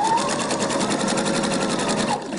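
A Pfaff sewing machine runs steadily while stitching along the edge of fabric with an edge-stitching presser foot, a continuous close whirring hum that slows and stops near the end.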